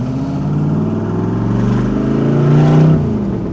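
A 1967 Chevrolet Corvette 427 restomod with side pipes and a Tremec gearbox rumbles loud and close, its deep V8 exhaust note rising and swelling toward a peak before settling back.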